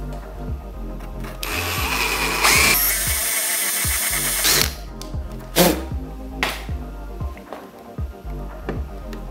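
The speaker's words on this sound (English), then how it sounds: "So I'm probably gonna use the same drill bit and just kinda hone it out." A power drill enlarges holes in a carbon fiber M3-style hood for a BMW 135i, with loud bursts of whining motor and grinding bit cutting the composite, broken by pauses and clunks of handling.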